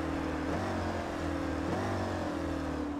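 Spec Racer Ford race cars in a sim racing game at NJMP Thunderbolt drone steadily while one overtakes another, the engine tones rising and falling as the cars shift and accelerate, with no voices.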